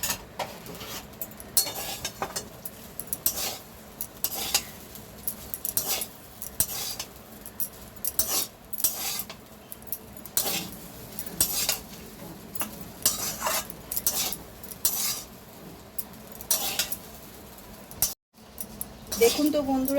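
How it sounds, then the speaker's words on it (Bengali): Mixed fried rice being stirred and tossed in a pan with a spoonful of soy sauce, a steady run of metal-on-pan scrapes and clinks over a soft sizzle, fairly close and continuous for the whole stretch. "এবার ভালো করে মিক্স করে নেব। এর ওপর দিয়ে 1 চামচ সোয়া সস ছড়িয়ে দেব।"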